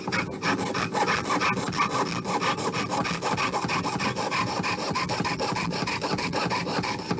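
Rapid, steady rasping strokes of a jeweler's saw cutting through metal, close and continuous, with no talking.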